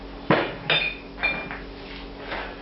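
A pan is handled on the stove while cooking lamb moussaka, several sharp metallic clanks and knocks in an uneven sequence, close and moderately loud, then fading.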